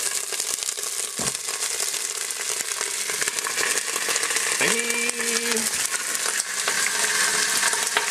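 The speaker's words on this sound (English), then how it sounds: "I've got this on browning mode with olive oil. I'm gonna brown them up a little bit." Turkey drumsticks sizzle steadily in hot olive oil in an electric Cuisinart pressure cooker on browning mode, a continuous crackling hiss with small pops and a brief tonal whine partway through.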